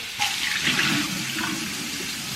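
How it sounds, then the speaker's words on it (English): Running tap water pours steadily into a bowl being rinsed in a kitchen sink, a close, even rushing splash with no talk over it. "This bowl is clean, but I'm just going to give it a quick rinse."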